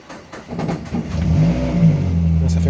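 A Peugeot 206 S16 petrol car that has sat unused for a long time cranks and fires up nearby, its engine catching within about a second and settling into a steady, fairly loud idle.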